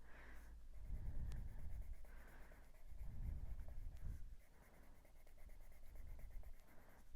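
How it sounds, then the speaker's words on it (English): Steady scratching of a pencil colouring on paper with dark green, in repeated up-and-down strokes that come in bursts, close and fairly quiet, with no talking. "Still going up and down with my pencil."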